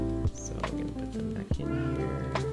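A house cat meows a few times in the background, partly overlapping a person talking nearby in a kitchen setting.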